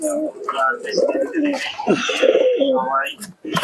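Pigeons, a hen and her family kept by a fancier, coo softly in a low warbling run over several seconds, close by and mixed with someone talking throughout.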